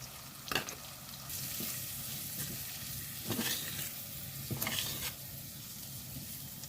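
Spice powders hit hot oil with frying onion and ginger for a fish curry, giving a steady close sizzle broken by several sharp crackling bursts and stirring scrapes.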